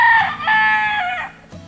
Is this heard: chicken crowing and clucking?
yes